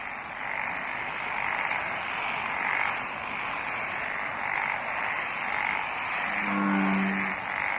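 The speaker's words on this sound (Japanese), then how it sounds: "カエルとの距離は5メートルぐらいです。" A frog croaks outdoors about five meters from a DR-05 recorder, giving one short, low, pulsed call late on over a steady chorus of insects, with no talking.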